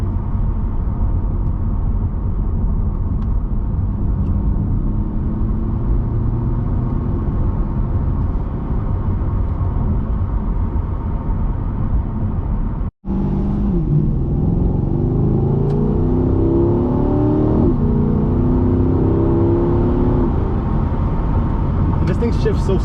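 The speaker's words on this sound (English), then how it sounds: "No launch at all, just straight up mashing the gas to the floor." A 2020 C8 Corvette accelerating hard at full throttle from a standstill without launch control, a loud sustained engine roar inside the cabin with rising pitch through smooth gear changes and one abrupt brief dropout midway.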